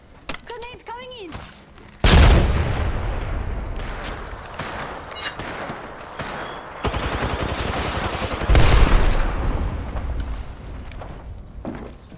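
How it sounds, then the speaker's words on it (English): Grenade blasts and gunfire in the game Apex Legends: a sudden loud explosion hits near the start, then sustained rumbling bursts and a second heavy blast later, all under a speaking voice. "Grenades coming in!"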